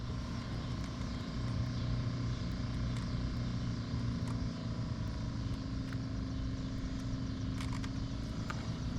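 A car's blower motor runs in a steady, faint whirring hum that stays constant throughout, with a few light clicks and taps from the work nearby.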